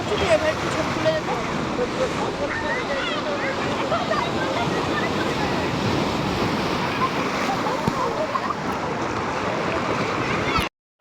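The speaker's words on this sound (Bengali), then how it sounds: "চলে এসেছি আমরা সমুদ্রতে।" Ocean waves breaking on the beach at Digha, a dense, continuous surf roar with wind rumble, fairly loud and close, filling the whole stretch before cutting off abruptly at the end.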